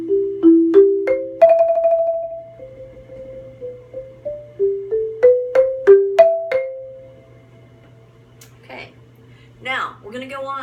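Marimba playing a line from an eighth-grade mallet audition exercise, clear struck bar notes in a stepwise run with alternated sticking and a swell, ringing in a quiet room, with brief talking afterward.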